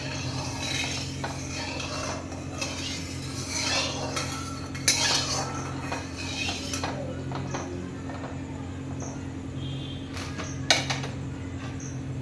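A metal utensil stirs and scrapes through oil in a pan, making soft intermittent clinks and scrapes over a steady low kitchen hum, close and moderately quiet, with no talking.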